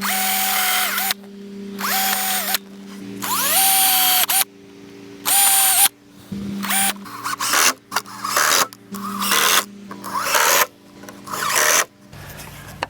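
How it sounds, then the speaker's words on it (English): A power drill whirs close up in repeated short bursts, revving up, biting into pallet wood and stopping, with brief silences between runs. "So I gotta drill these out."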